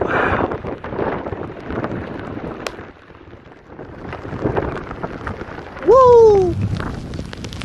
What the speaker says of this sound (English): An incredible storm. It's a rainstorm.